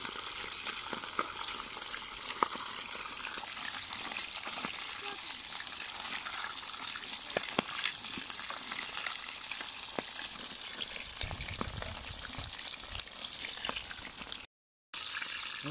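Chicken legs frying in oil in a kazan over a campfire, a constant close sizzle and crackle with sharp pops throughout, a brief dropout near the end.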